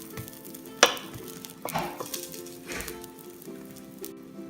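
Egg omelette frying in a pan, a steady low sizzle close by with a sharp clink of a utensil and soft scraping or stirring touches scattered throughout.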